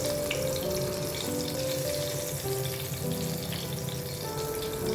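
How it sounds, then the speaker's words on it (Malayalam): Garlic cloves fry in hot oil for a coconut-free mackerel curry, giving a loud, continuous close-up sizzle and crackle that holds steady throughout with no voices. "വെളുത്തുള്ളി എല്ലാം ഒന്ന് തിരിച്ചൊക്കെ ഇട്ട് കൊടുത്തിട്ട് നമുക്ക് എല്ലാ സൈഡും ഒന്ന് മൂത്തെടുത്തതിന് ശേഷം നമുക്ക് വറുത്ത് കോരിയെടുക്കാം"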